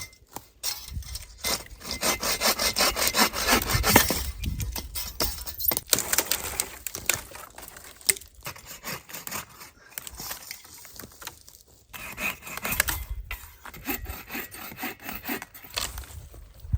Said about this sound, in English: So I'm gonna go grab my saw and see what I can find.